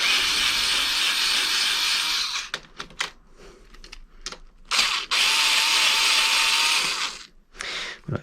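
A power tool drives a screw while a Monorim suspension is fitted to a Xiaomi M365 electric scooter, loud whirring bursts broken by short ratcheting clicks and pauses, close up, with no talking.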